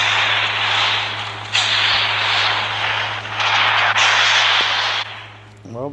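Aircraft rotor and engine drone from a helicopter in the mobile shooter Call of Duty Mobile Ground Wars mode, a loud steady roar that surges in several bursts before fading near the end.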